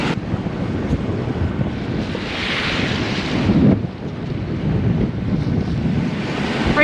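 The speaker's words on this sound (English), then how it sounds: "Breaking waves, bad." Waves break and wash continuously off Grenada while wind buffets the microphone aboard a sailboat, a steady, rough roar with a surge of surf midway.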